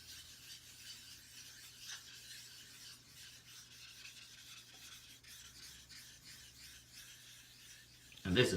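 A DNT 325 stone is rubbed back and forth across a Thuringian hone to raise slurry, a faint, steady gritty rasping close by, followed by a short louder knock at the very end.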